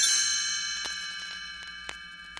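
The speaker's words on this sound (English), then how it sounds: "You will know it is time to turn the page when you hear the chimes ring like this." Bright chimes ring as a page-turn signal for a read-along Christmas story: a loud shimmering strike at the start that fades, then several lighter metallic dings scattered over the next two seconds.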